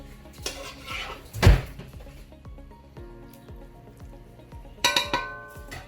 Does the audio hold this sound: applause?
no